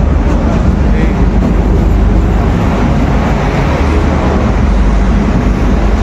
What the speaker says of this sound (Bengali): এটা DMU, অর্থাৎ এটা ডিজেলেই চলছে।